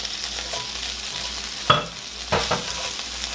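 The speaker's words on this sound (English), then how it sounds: "once the butter is all nice and melted, you can go ahead and add in all of your garlic" Garlic goes into melted butter and fries with a soft, continuous sizzle, broken by two brief scraping bursts as it is stirred. No voices are heard.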